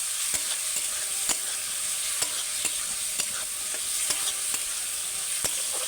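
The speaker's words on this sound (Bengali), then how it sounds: "এবার আমি যে সবজিটা ভেজে রেখেছিলাম আলু আর ঝিঙে সেটা দিয়ে দেবো দিয়ে একটু নেড়ে নিয়ে" Fried potato and ridge gourd are stirred into spiced oil in a pan, with a steady sizzle and repeated sharp scrapes and taps of the spoon at an irregular rhythm.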